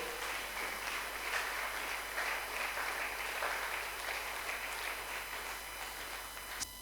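A church congregation at a Sunday service applauds steadily, a dense wash of many hands clapping at an even level throughout, with no voices standing out.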